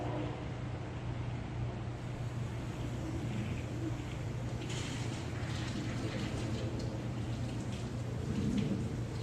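Water rushes through bathroom plumbing after a valve is opened while the bathrooms are being winterized, a steady, fairly loud broadband hiss that holds constant throughout.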